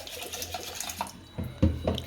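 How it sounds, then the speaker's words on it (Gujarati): Water poured from a tap into a pot of washed urad beans (black gram) in a home kitchen, a short liquid splashing and filling sound that grows louder near the end. "અડદ ધોઈ ગયા છે, આમાં પાણી નાખશું"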